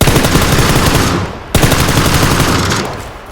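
Rapid automatic gunfire from a video game, a dense, continuous loud burst of shots with a brief break partway through before firing resumes.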